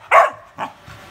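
A dog gives a single sharp bark followed by a shorter, softer yelp, both close and loud, with no talking.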